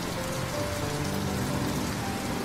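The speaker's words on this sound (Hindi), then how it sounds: "मूसलाधार बारिश हो रही थी" Steady, dense rain pouring down with an even broadband hiss, continuous and close, with no voices.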